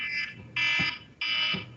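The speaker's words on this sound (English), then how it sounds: "That was just an alarm to let us know 5 minutes are up" A workshop timer alarm sounds three loud, harsh electronic buzzes in a steady repeating pattern, each about half a second long, alone over faint room noise.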